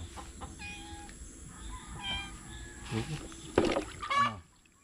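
A cat meows a few times near the end, loud and close, after quieter background noise and faint clucking-like sounds outdoors while fish is being cleaned.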